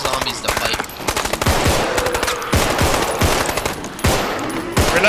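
Assault rifle gunfire in the zombie game Contagion, loud rapid automatic bursts repeating in several strings with short pauses between them.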